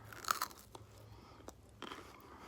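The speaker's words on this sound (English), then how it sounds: "let's try some broccoli." Someone bites and chews raw, crunchy broccoli up close, giving a sharp crunch at the start and a few more crisp bites and chews at intervals, quiet otherwise, no talking.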